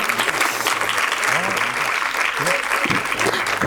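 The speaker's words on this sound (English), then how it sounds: "A big clap for all of them." An audience at a nursery school's annual function claps for the teaching team, a steady, dense round of applause throughout, with voices faintly mixed in.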